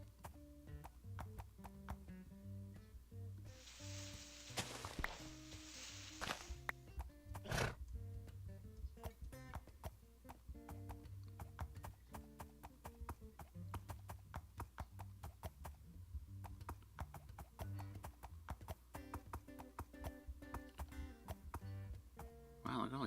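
A donkey in Minecraft plods along with soft rhythmic hoof clip-clops and gives a braying neigh partway through, set against steady game music that runs the whole time.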